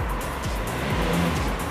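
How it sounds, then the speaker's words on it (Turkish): A car drives past on a commercial film set, a broadband rumble with tyre noise sweeping across at close range, steady and fairly loud throughout. "Araba geçti araba önden."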